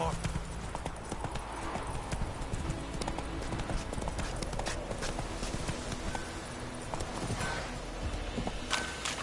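Roach the horse gallops in The Witcher 3, with steady hoof clip-clops running throughout. The hoofbeats are dense and continuous, mixed with game ambience, and voices are heard over them.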